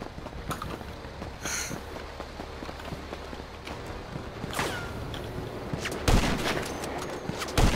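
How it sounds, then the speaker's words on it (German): Gunfire in GTA Online comes as scattered sharp shots at a moderate distance, with a louder burst near the end, over a low background rumble and faint footsteps. "Ich schieße genau auf ihn drauf, die Schüsse gehen einfach durch ihn durch."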